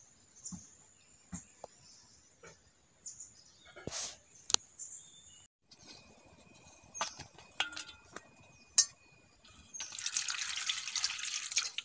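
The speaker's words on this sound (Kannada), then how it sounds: "ಈ ವೀಳ್ಯದೆಲೆ ನಾವೀಗ ನೀರು ಹಾಕಿ ಚೆನ್ನಾಗಿ ತೊಳ್ಕೊಳ್ಬೇಕು." Fresh betel leaves are rinsed under running tap water, with intermittent splashes, drips and brief gushes, and a steadier flow of water toward the end, close by and with no speech.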